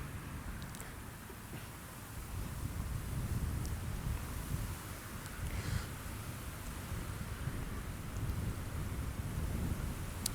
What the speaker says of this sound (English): It's getting mad windy.